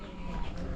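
A large flock of pigeons at a farm compound, fed on scattered maize, gives a dense, steady chorus of calls and wing noise up close throughout the short stretch.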